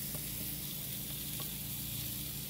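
Tortilla sopes brown in a pan with a steady, dense sizzle that holds at an even level throughout, with faint stirring ticks now and then.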